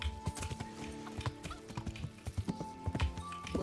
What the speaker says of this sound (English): Horse on the roof.